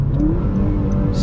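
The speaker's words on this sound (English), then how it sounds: "Matching in fourth gear now, third," A manual-transmission car engine blips and revs during a rev-matched downshift, a close, steady mid-pitched drone that swells briefly with no talking.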